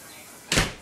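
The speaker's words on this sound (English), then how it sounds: "Or just open the door." A door at an antiques-filled inn swings open with one short, loud rush of noise after a quiet moment, close by.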